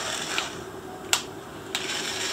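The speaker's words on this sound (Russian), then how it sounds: "Да, это та штука, которая крутит шурупы." A toy cordless screwdriver turns with a steady, thin mechanical whir, punctuated by a few brief clicks, close by and moderately loud.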